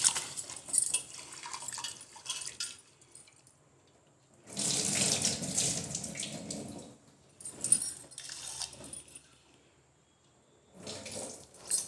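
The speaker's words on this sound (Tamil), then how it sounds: "இந்த பைத்தம்பருப்பை ஒரு களைஞ்சின்னு வந்துடலாம்." Tap water runs into a bowl as moong dal is rinsed, flowing in several separate bursts with short pauses between them, the longest and loudest stream in the middle. Nothing else is heard.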